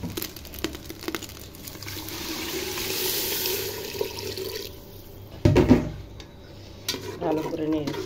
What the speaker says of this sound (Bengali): কষানো হয়ে গেল, এবার পানি দিয়ে দেব।